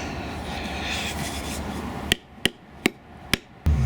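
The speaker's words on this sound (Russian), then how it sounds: "Немножко стукнул молоточком, чтобы выбить" After a stretch of background noise, a hammer strikes metal five times to knock out the handle of a Soviet fitter's hammer under restoration, sharp, evenly spaced knocks, close and loud.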